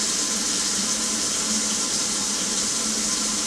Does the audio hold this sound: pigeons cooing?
no